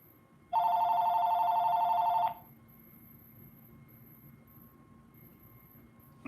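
A telephone rings once during a live stream, a loud electronic bell tone of under two seconds that stops abruptly, leaving a quiet room hum.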